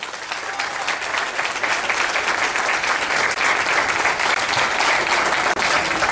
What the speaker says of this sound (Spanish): Un fuerte aplauso para el ingeniero Lino García Gama.